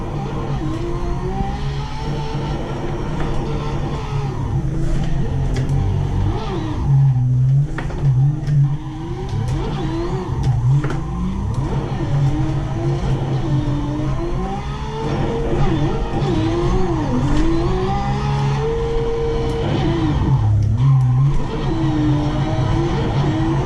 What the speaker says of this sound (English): it's actually slightly tricky drifting through these tight mountain roads, especially on cold tires